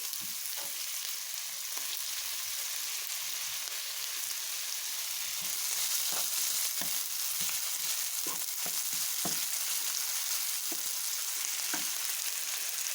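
Sausage sizzling in a pan of creamy white pasta sauce, a continuous hiss broken by light stirring scrapes and pops, with no talking.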